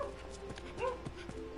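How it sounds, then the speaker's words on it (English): A dog in the video game Gravity Rush 2 whimpers and sniffs in short, soft bursts over a steady game background hum, including one rising whine midway. "Hey, what's with this dog?"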